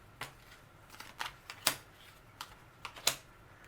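Tarot cards pulled from a deck one after another: soft, close, quiet clicks and card snaps in an uneven series, a few sharper flicks standing out.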